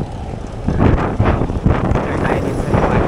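Strong wind roars and buffets the microphone during a bicycle ride near Gapan City, surging louder partway through, heavy low rumbling gusts with no clear talk.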